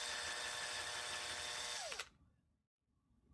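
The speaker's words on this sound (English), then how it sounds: "you may know that I have a lathe, so why not use it here?" A lathe boring hardened steel dies whines loudly and steadily, then spins down abruptly and stops, leaving near silence.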